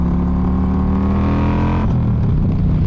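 A Harley Street Glide bagger fitted with Rinehart exhaust, its V-twin revving up loud and close, rising in pitch and then dropping back to a lumpy rumble, with no talking.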